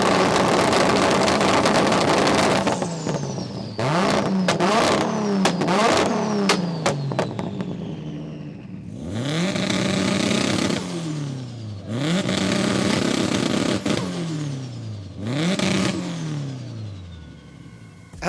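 A Nissan R32 GTR and a Subaru Impreza rev their engines hard in turn, loud and close, with repeated rising and falling blips, pops and crackles between sharp throttle stabs, and no talking.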